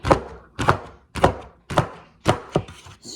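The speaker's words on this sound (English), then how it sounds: "I'm going to show you my other favorite product, the cup slicer." Fresh strawberries sliced in quick succession with a plastic cup slicer, giving five crisp chopping thunks spaced about half a second apart, close and clear with no voices.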